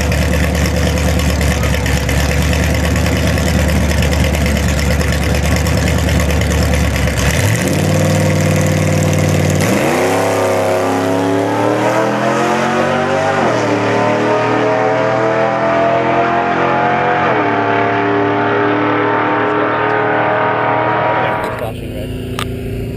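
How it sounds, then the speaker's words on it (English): A car doing a burnout at the strip at night, its engine loud and close, holding a high rev then climbing repeatedly through rising revs for about twenty seconds before cutting off, with voices talking underneath. "What a burnout, eh?"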